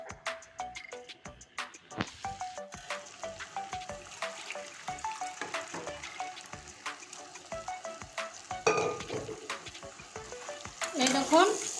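Chickpeas and potatoes frying with spices, a constant crackling sizzle broken by rapid rhythmic scrapes of a spoon against the pan, close but moderately quiet, with no one speaking.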